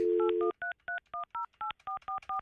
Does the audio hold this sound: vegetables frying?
no